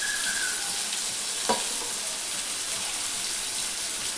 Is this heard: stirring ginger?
yes